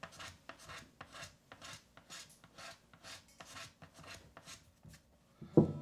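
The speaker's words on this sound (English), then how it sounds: "now I'm going to start applying some bending pressure to the razor blade" A new razor blade scraped across the spruce soundboard of a Martin D35 acoustic guitar, a quiet, close rasp repeated in about a dozen even strokes, ending with a sharper knock.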